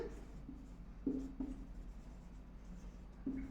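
Pen writing on paper during a maths lesson, faint scratchy strokes in short irregular bursts, close and quiet.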